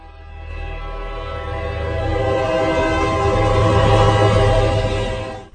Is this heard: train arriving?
yes